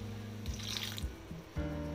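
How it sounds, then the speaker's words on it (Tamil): Water is poured into chilli paneer masala in a cooking pan, giving a quiet, steady trickle with small splashes and drips throughout, with no talking. "இப்போ இதில் 1/4 டம்ளர் தண்ணி ஆட் பண்ணிக்கலாங்க."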